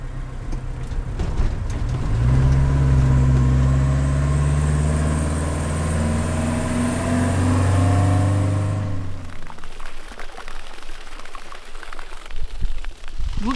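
A camper van pulls away and drives off downhill toward a valley in Georgia, its engine note climbing through a few gears over about nine seconds before fading into rough road and wind noise.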